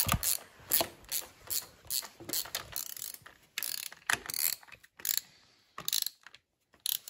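An engine part is tightened with a ratchet wrench, close and fairly loud, with repeated bursts of rapid clicking ratchet strokes separated by brief pauses and no talking.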